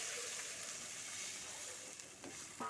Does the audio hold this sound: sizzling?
yes